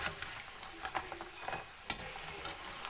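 Crisp dry rattling and scraping as masala-coated peanuts are stirred in a pan, with soft sizzling throughout and a few sharper clicks, close and fairly quiet.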